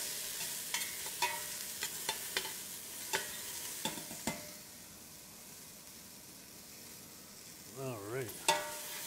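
Sliced white onions sauté in a pan with a soft, steady sizzle, broken by light stirring taps and clinks, and a brief voice near the end.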